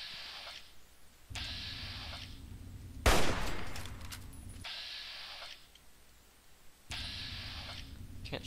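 Bursts of automatic gunfire in Fallout 3, with repeated loud, rattling volleys separated by short pauses and a sharp, heavier blast near the middle, all without speech.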